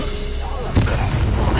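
A loud booming fire-blast spell explodes in the Hogwarts Legacy video game, a sudden hard burst about midway followed by a rumbling tail over steady game ambience.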